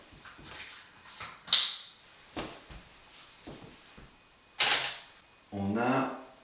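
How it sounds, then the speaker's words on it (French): Camera shutter with flash firing while photographing a beer bottle in a small studio setup, heard as two sharp, fairly close clicks separated by a few seconds, among quieter handling knocks. "Donc je vais le faire et puis reprendre la photo."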